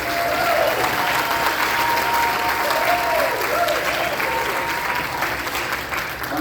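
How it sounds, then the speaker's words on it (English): Steady, full applause from an audience at a middle school concert for a sixth grade band, dense clapping throughout with faint voices beneath, tapering slightly at the end. "Let's give them a round of applause here."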